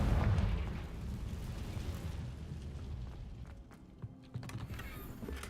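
A Confringo blasting spell exploding in Hogwarts Legacy, a heavy booming burst at the start that rolls off into a fading rumble, followed by scattered light clicks and crackles.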